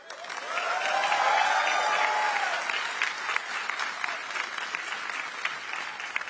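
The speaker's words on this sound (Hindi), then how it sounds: "इस बयान पर पेरिस का पूरा ऑडिटोरियम तालियों की गड़गड़ाहट से गूंज उठा" An auditorium audience in Paris breaks into thunderous applause, a dense wash of clapping that swells in and holds steady for several seconds, loud and continuous with no voices on top.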